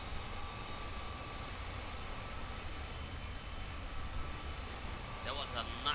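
A military C-17 cargo aircraft taking off over New York, heard as a steady, loud engine roar that fills the whole stretch without a break, with a faint higher whine rising near the end.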